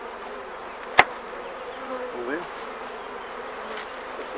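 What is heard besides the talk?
honeybees buzzing in an opened hive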